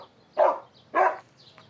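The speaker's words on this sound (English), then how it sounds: "Like the dog barking, low-pitched sounds, I can hear that." A dog barks twice, two short, fairly low woofs about half a second apart, close by in a quiet room, followed by a faint whimper-like trailing sound.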